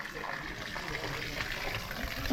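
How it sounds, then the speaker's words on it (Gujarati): Water is poured over the freshly laid foundation of a house under construction, a steady splashing flow heard close by while voices talk over it. "હા પેલા છે ને પાણી પાઈ દઈએ થોડુંક"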